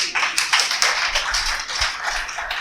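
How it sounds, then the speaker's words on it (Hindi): An audience claps at a poetry gathering, a dense burst of hand claps and taps that swells and carries on without pause. "एक बार जोरदार तालियां"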